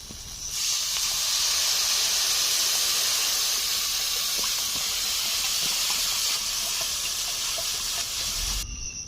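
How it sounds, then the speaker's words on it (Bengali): Water poured into a hot pan for a rohu fish curry with poppy seed paste bursts into a loud, sustained sizzling hiss of steam that holds steady for several seconds before cutting off. "এখন দিয়ে দিচ্ছি জল।"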